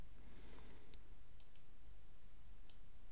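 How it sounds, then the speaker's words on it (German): Left mouse button clicks on a computer mouse during Unity game development, a few short, faint clicks spaced apart over a steady low hum with no talk. "immer wenn ich die linke Maustaste drücke, wird Fire 1 ausgelöst"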